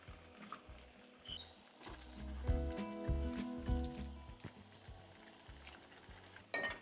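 Beef with its accumulated juices, rosemary and thyme stirred in a pot for beef and barley soup, soft wet sizzling with clanking and scraping strokes from the spoon in an irregular rhythm, fairly quiet.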